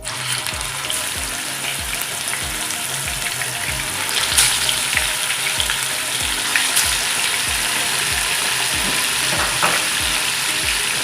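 Tuna frying in hot oil over medium heat for escabeche, a loud, continuous close crackling sizzle with faint stirring knocks and no talking.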